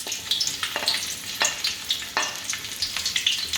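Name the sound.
garlic frying in hot oil in pan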